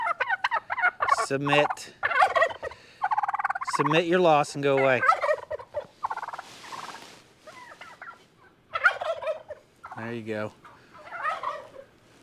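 A tom turkey gobbles loudly and repeatedly nearby on a farm, with bursts of rapid warbling between pauses, while someone talks to it.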